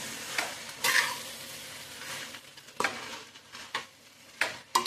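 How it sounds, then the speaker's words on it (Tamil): Cooked rice and vegetables being stirred in a pan for a kovaikai bath, with soft scraping and clinking spoon strokes against the metal and a faint sizzle between them, close and fairly quiet. "நல்லா மிக்ஸ் பண்ணிக்கோங்க."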